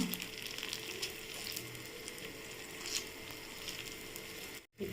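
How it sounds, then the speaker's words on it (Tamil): Sweet rava kuzhi paniyaram fry in oil in a paniyaram pan, giving a steady close sizzle throughout as each one is turned, ending in a brief drop to near silence. "ஒவ்வொரு பணியாரத்தை இப்போ மாற்றி போட்டுக்கலாம்"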